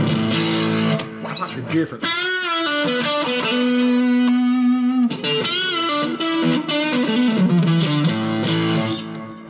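Flamma E1000 electric guitar with its 8D effect played through a tube amp, sustained distorted chords and melodic lines with a swirling, spacious modulated tone, loud and continuous, with a brief spoken remark at the start.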